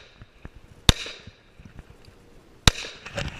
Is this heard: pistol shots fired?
yes